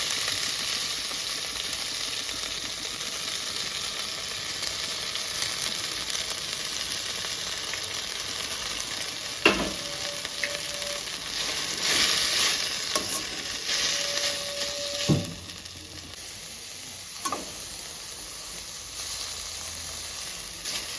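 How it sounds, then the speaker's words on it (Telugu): Green chillies, fenugreek leaves, coriander and mint frying in a pan for chicken donne biryani, a constant loud sizzle and hiss with occasional clanks and scrapes of stirring, close up throughout. "పచ్చిమిర్చి మెంతి కూర కొత్తిమీర పుదీనా అన్నీ వేసుకొని ఫ్రై చేసుకున్నాము"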